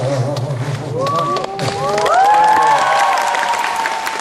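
A concert audience claps together amid crowd cheering, a steady wash of broadband noise lasting the whole stretch, with a voice singing or calling over it.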